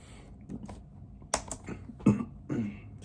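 Computer keyboard keys tapped in a few short, irregular bursts as a password is typed, close and fairly quiet with gaps of room noise between strokes.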